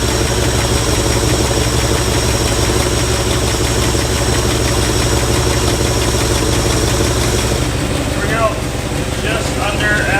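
A 1970s Lincoln V8 engine idles with a steady, loud, throbbing rumble and a faint knocking undertone, heard close up, with brief voices near the end.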